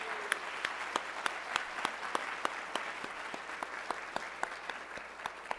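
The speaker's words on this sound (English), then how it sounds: "Let's give that a big round of applause." An audience at a university campus address claps in sustained applause, a dense patter of many hands with a few sharper individual claps standing out.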